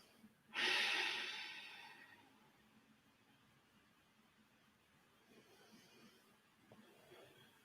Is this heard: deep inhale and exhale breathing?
yes